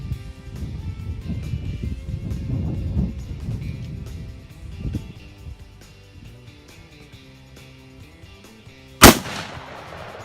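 A single loud sniper rifle shot cracks sharply near the end, preceded by a stretch of low rumbling and handling noise outdoors, with no talking.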